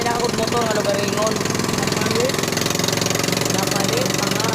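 A boat motor running steadily on an island trip, a loud, close, rhythmic engine drone with knocking pulses, with people talking over it.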